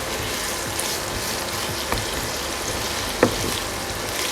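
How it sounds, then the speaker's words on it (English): Onions sautéing in a pan for a spicy Indian mutton curry, a steady dense sizzle with a few soft stirring clicks and one sharper knock near the end, no voices. "I'll saute the onion until nice golden brown."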